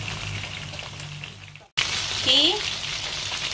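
Barramundi fish fries in hot oil with a steady, dense sizzle and bubbling that cuts out briefly and then returns louder, while a voice speaks a single short word.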